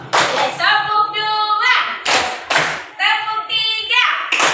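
Group hand clapping in a classroom setting, two short bursts of sharp claps, each followed by children chanting together, loud and close.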